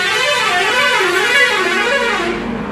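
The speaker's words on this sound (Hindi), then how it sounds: "यहाँ पर बहुत गाड़ी चलते रहता है तो हॉर्न बजता है।" Loud, sustained honking from vehicle horns over steady passing highway traffic noise, a continuous blare that eases off slightly near the end.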